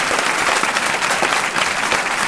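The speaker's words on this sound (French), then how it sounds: "vous pouvez l'applaudir" Audience applause for a best comedy film actor award at a comedy festival in Alpe d'Huez, loud dense clapping from a crowd, continuous and even throughout.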